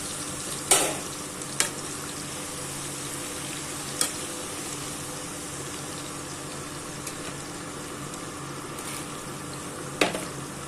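Chilli potatoes frying in hot oil in a pan give off a steady, close sizzle and bubble, with a few sharp spatters and clinks standing out over the continuous hiss.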